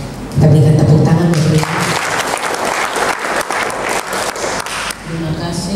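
Applause erupts at a provincial health department training event on stunting reduction, a dense, loud round of clapping from a seated audience lasting several seconds, bracketed by a voice speaking over a microphone at the start and end.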